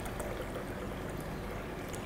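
Hot coffee pouring from the tap of a Deluxe hot coffee urn, MKS-DHC12, into a cup below, a steady even rush of liquid held throughout with no voices.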